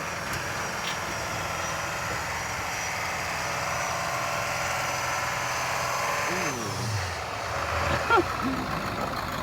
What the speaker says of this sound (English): It's just spinning the tires.